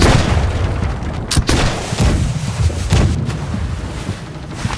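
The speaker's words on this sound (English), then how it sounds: "Load the cannons, keep using the guns on them. Fire." Ship cannons fire in a pirate naval battle in the Blackwake game, sending out a series of loud, booming blasts about a second apart amid dense battle noise.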